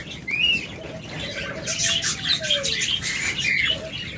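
Caged pet budgerigars, cockatiels and lovebirds at a bird sale chirp and tweet close by, with a steady overlapping stream of short calls and a few longer whistled notes.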